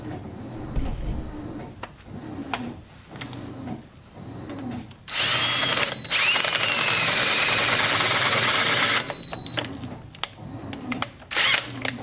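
A hand power drill whines loudly for several seconds, grinding into oiled metal for Brembo brake work on a Toyota Tacoma, framed by quieter scraping and handling noises before and after.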